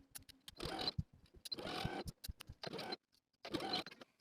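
A sewing machine stitches the lower arm seam of a gathered blouse with a narrow seam allowance, running in four short, quiet bursts separated by brief pauses.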